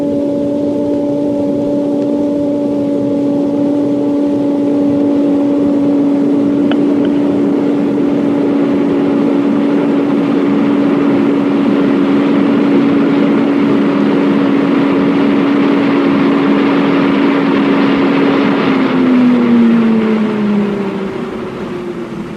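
Wind tunnel airflow rising steadily toward about 150 mph, a loud continuous roar with a sustained whining tone that holds, then drops in pitch near the end.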